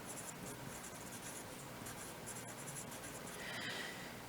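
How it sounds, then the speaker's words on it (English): Writing during a math lesson, with faint scratching pen or marker strokes in short bursts under a steady background hiss, quiet and close, with no talking. "what we'll just write here is"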